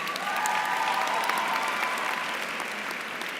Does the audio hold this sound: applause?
yes